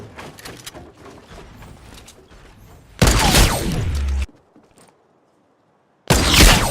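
Sniper rifle fire in Fortnite Battle Royale: quiet ambient game sounds give way to a loud, sharp shot with a sustained roar and crackle lasting about a second, then near silence, then another loud burst at the end.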